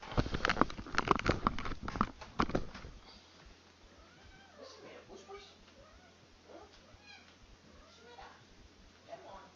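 Domestic cat indoors, meowing a few times at a moderate distance amid a person's talking and some handling noise, followed by quieter room sounds.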